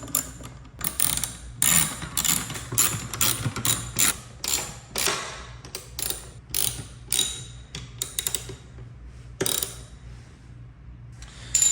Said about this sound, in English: I'm gonna use my own, like a socket Allen wrench, which is gonna make things a lot easier